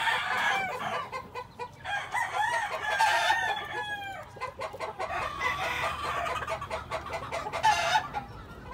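Fighting roosters in a gamecock pen crow and cluck repeatedly, loud and close, with several overlapping crows and other fowl around and no talk.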